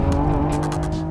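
A Lamborghini Revuelto's V12 engine roars loud and close, a dense, sustained snarl with a fluttering pulsing texture as it holds high revs, no voices over it.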